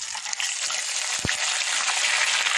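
Ground spices and onion paste fry in a pan for Lahori chickpea curry, a close, steady broadband sizzle with one brief low thump partway through.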